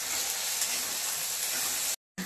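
Chana dal sizzling as it fries in oil in a kadhai, a loud steady close hiss that runs unbroken, then cuts out briefly and resumes.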